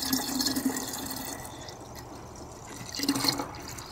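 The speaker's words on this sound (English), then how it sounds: "Gonna add some distilled water to help flush some more out." Distilled water pours into the radiator of a 1997 Ford F-150, a close gurgling trickle that swells, eases off, then surges again near the end.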